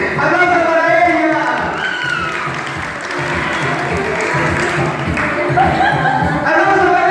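Applause and cheering from a crowd at a children's day celebration, sustained clapping with excited voices and shouts mixed in throughout.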